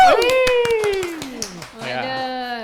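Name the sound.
podcast hosts clapping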